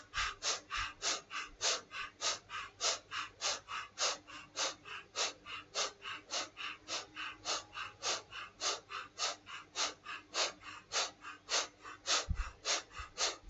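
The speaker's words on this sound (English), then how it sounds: "We're going to do breath of fire." Breath of fire, a rapid yoga breathing exercise, is done as a long, steady run of quick forceful nasal exhalations, close and even in rhythm, with no talking.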